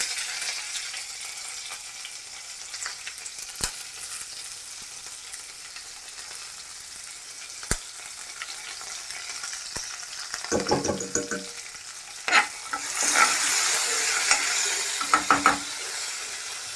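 Green chillies and curry leaves dropped into hot oil for dal khichdi, starting with a quiet low sizzle and occasional spoon clicks, then building into louder crackling and spattering with stirring scrapes toward the end.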